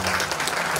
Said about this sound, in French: Applaudissez, Monseigneur, s'il vous plaît.